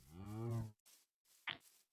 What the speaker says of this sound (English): So here's our first cow.